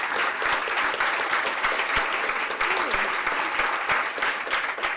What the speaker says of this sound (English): And a huge round of applause for all of our journalists.